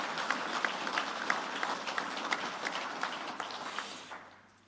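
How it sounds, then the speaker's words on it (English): Audience applause at the 2024 Fieldays Innovation Awards evening for the Prototype Award finalists, a steady wash of many hands clapping that fades out toward the end. "What about a round of applause for all of them?"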